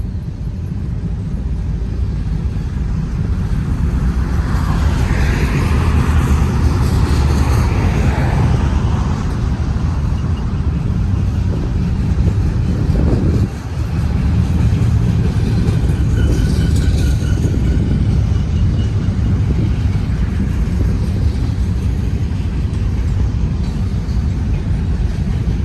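A BNSF port stack intermodal freight train rolls past near Route 66 at Verdemont, a loud, continuous rumble and clatter of wheels on rails sustained throughout, with a brief dip midway and no talking.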